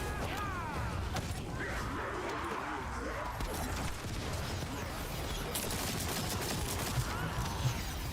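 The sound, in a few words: gunfire in video game The First Descendant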